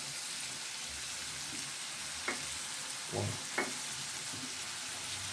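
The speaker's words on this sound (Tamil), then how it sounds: "இப்போ இதை நல்லா போட்டு மிக்ஸ் பண்ணிடலாம். நல்லா வதக்குங்க." Chicken liver with chicken masala, garam masala, turmeric, chilli powder and spice powder fries in a pan, giving a steady soft sizzle with a few louder scrapes and clatters from stirring.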